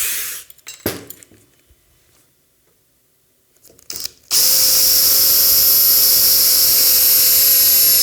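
A power drill bores a hole through polycarbonate plastic sheet. Scattered rattles and knocks with a quiet gap come first, then a loud, steady high-pitched drilling whine takes over and holds.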